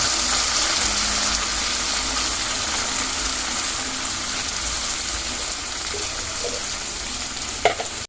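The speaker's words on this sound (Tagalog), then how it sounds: "Yung pong ating bote, niluglugan po natin ng tubig." Water sloshes and splashes steadily inside a chili sauce bottle as it is rinsed out beside a sizzling pan of sweet and sour tilapia, with a brief knock near the end.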